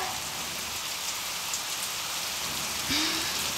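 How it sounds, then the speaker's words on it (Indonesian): Steady rain falls outside, a dense, even hiss of drops on surfaces continuing throughout with no break, with a faint brief tone near the end. "Di luar hujan."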